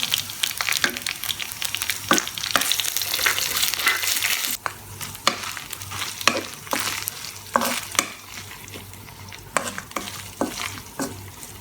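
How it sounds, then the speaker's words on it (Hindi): A thick ginger-garlic paste sizzles in a hot pan while a spoon scrapes and stirs it in repeated sharp strokes. "अब मेरे पास जो अदरक और लहसुन का पेस्ट है मैं वो भी ऐड करने लगी हूँ"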